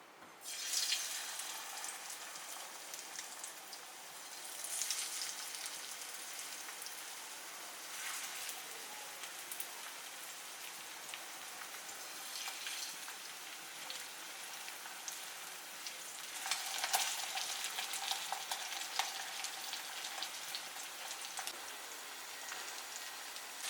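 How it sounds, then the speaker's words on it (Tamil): Mackerel fish sizzling in hot oil, a steady dense crackle and hiss that swells briefly around the middle and again later, close and moderately loud with no talking. "ஆயில் ஹீட் ஆகிடுச்சு பாருங்கள். இப்போ நம்ம ஒரு ஃபிஷ்ஷை ஆட் பண்ணலாம்."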